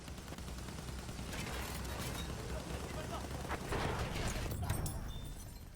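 Barrage Bomber dropping bombs on a heavy tank in Battlefield 1, a dense rolling stretch of explosions and gunfire building in intensity, with a voice talking over it.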